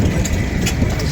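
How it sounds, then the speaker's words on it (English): An old Allen engine running at a tractor show, a loud steady low-pitched chugging drone with faint outdoor clatter above it, close and continuous. "This is a nice Allen engine, seen before."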